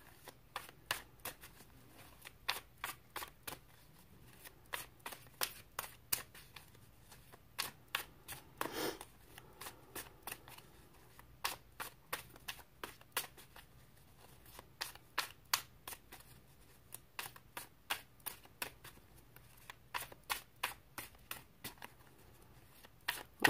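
A large tarot deck is shuffled in a steady run of sharp, crisp card riffles and snaps, close and fairly loud, repeating for the whole stretch with no talking.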